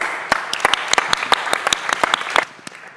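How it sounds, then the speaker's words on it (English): Audience applause at a climate panel gathering, a dense burst of clapping from a crowd with a few sharp individual claps standing out, fading toward the end. "So give her a rousing round of applause."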